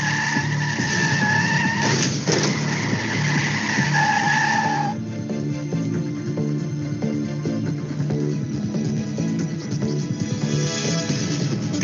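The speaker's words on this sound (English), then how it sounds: "A sudden steering maneuver to avoid a collision, the vehicle starts to skid and you lose control." A car skids after a sudden steering maneuver to avoid a collision. Its tires squeal loudly for several seconds, then a rough rumbling roar continues alone.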